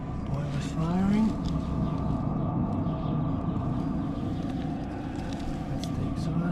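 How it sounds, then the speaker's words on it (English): Viessmann gas boiler firing, heard outdoors near its exhaust and air intake as a steady, loud low roar that holds for several seconds, with a brief rising tone near the start. "Boiler's firing."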